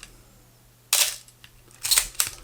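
A Canon AE-1 Program film camera fires its shutter: a sharp click near the start is followed by two more crisp clicks close together a moment later. Each is loud and close against a near-silent background.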